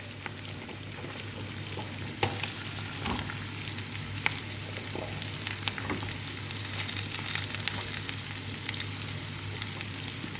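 Chopped vegetables with carrot fry in a pan, a continuous soft sizzle with occasional scraping clicks of stirring and a low steady hum underneath, no one speaking.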